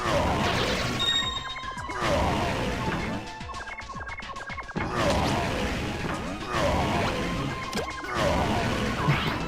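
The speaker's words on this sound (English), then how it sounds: "I am not used to Bowser sound like this." Bowser's sound effects in the Super Paper Mario video game: loud, dense bursts of crashing and whacking game noise with creaky mechanical touches, recurring in waves throughout.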